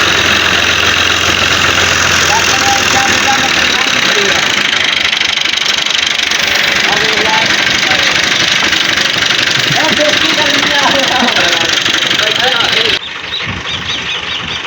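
A tractor engine idles with a loud, knocking, rhythmic chug and some squealing, while voices talk over it. The engine drops away abruptly near the end.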